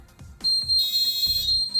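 Fire alarm sounder inside a flat on a Pearl Type B system, a loud sustained high-pitched electronic tone starting a moment in and holding steady, preceded by a few soft knocks, no voices.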